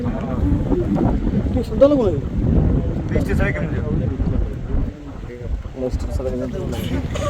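A trawler's engine drones steadily under buffeting wind at sea, with voices talking over the constant low rumble.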